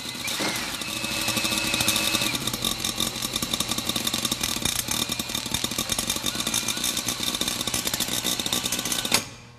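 Rapid ticking crackle of ignition sparks from a hand-spun engine distributor on a classic French car, a steady buzzing rattle that speeds up as the shaft turns faster, close and continuous until an abrupt stop.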